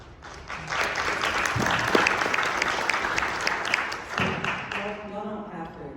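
Audience applause at a Harvard Law panel discussion, dense and sustained clapping from a crowd that swells and fades over several seconds, with a voice faintly audible near the end.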